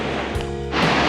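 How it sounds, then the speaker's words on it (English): Rushing river water at Burney Falls gives a steady, close, broadband wash for just over a second. "Rushing water. It looks so clear."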